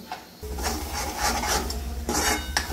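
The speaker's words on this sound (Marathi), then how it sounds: "इथे बघू शकता याला चांगलं तेल सुटेपर्यंत परतून घ्यायचे।" Masala sautéing in oil in a pan, a continuous gritty scraping and rasping of the spoon against the metal with a soft sizzle beneath, close and fairly loud, with no talk.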